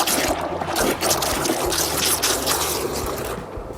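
Water trickling and pouring into the bottle of an MJJC short pressure-washer foam gun, a close, continuous splashing with small gurgles, no talk.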